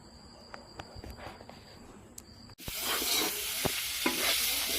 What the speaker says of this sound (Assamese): পিঁয়াজ দি আলুখিনি ভাজি লৈছে এয়া ধুনীয়াকৈ ভাজি আছে